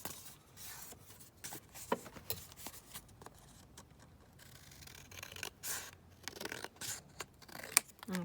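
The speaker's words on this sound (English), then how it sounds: "So I'm just going to cut this down." Scissors snip through paper being trimmed to decorate a stack of envelopes, a series of quiet, close, crisp cuts and rustles at an uneven pace in an otherwise quiet room.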